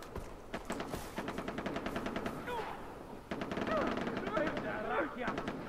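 Rapid automatic gunfire from allied fighters in the Far Cry video game, with quick rhythmic bursts of shots at moderate distance and a voice talking over the shooting.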